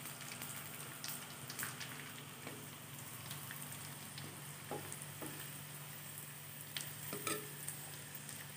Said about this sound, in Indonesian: Kita akan goreng ikan asinnya.